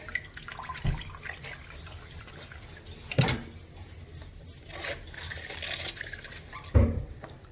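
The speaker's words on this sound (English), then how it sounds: "You rinse it" Water running and splashing as something is rinsed under a tap during deep house cleaning, a steady close wash of flow with a few louder splashes and clatters.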